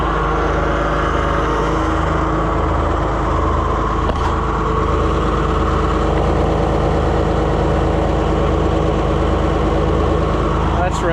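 A large-frame Oliver 55 series tractor runs steadily nearby with a loud, continuous engine drone while its hydraulics raise the three-point hitch arms.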